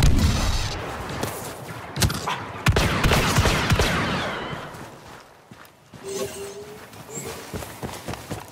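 Blaster fire crackles in the Star Wars Battlefront II 2017 campaign, General Distress mission, with rapid bursts of shots mixed with running footsteps and battle din, loud and close, tapering off before a few scattered shots near the end.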